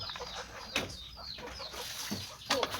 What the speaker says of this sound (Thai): ไก่กินหอย